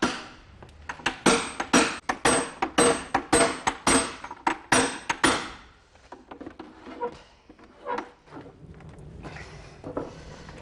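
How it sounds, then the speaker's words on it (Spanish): Rapid series of sharp metallic strikes of a hammer and driver tightening hoops on a wooden barrel, loud and close, in quick uneven bursts for about five seconds, then sparser, fainter knocks. "Al apretar los aros con el martillo y el chazo, consigue una mayor aproximación entre las tablas."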